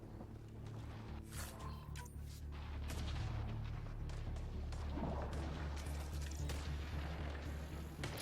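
Enemy gunfire in the sci-fi shooter Mass Effect: Andromeda, played on Xbox One at Insanity difficulty: sharp shots and booms crack over a steady low droning rumble, with a busier burst of impacts midway through the clip.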